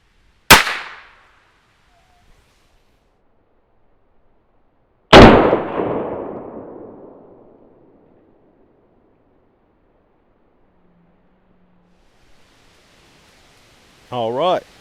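A tiny revolver fires two sharp, loud shots into a row of five boxes of Arm & Hammer baking soda, the second blast trailing off into a long ringing decay, with a brief faint rustle near the end.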